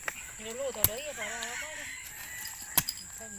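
Chickens cackle and cluck in a few short, fairly close bursts in a rural outdoor setting, with faint voices and light background noise around them.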